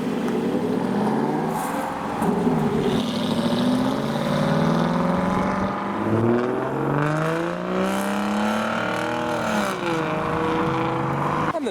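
An Aston Martin Vantage supercar leaving a car show, its engine revving hard as it passes, with pitch rising and falling through a loud, sustained sweep.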